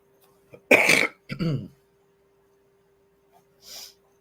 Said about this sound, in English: It's amazing how I don't cough all day, but I'll cough here.